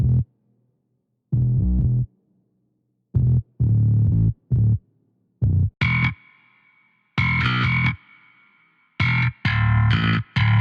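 Heavy distorted bass notes from a layered 808 and bass guitar played alone in short bursts, a deep booming low end with a gritty upper buzz, separated by gaps of silence.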